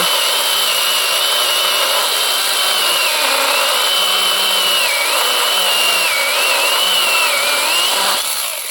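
An AL-KO mini chainsaw runs on a Chinese battery through an adapter, a steady high motor whine whose pitch dips briefly several times as it bogs while cutting, close and loud throughout with no speech.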